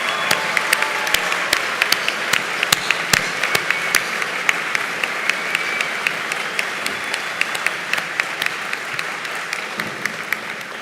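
Sustained applause from a large crowd at the Dakota State University spring 2024 commencement ceremony, steady and broad, with sharp individual claps standing out near the front throughout.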